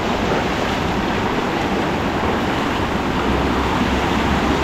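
Strong water rushing through a dam during a sudden rise, a dense, steady roar of churning flow filling the whole clip, loud and close with no pauses and no talk.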